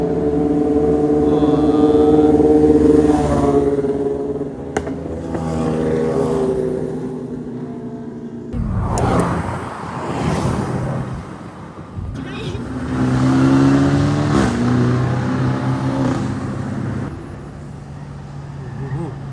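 Car engines warming up and revving at a weekend supercar gathering in Genting, Malaysia, a loud rumbling drone with rising revs and a sharp burst midway, people talking over it.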